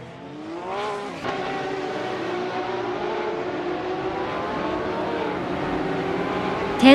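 A 1997 McLaren F1 GTR Longtail races in a video game, its engine holding a steady high harmonic drone with a gear-shift dip and rising pitch sweeps, continuous and fairly close.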